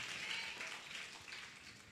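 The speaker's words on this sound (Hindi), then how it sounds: "ताली बजा के प्रभु को धन्यवाद दो।" A congregation at a Hindi Christian sermon claps together in a faint, distant patter of many hands that swells slightly, then tapers off.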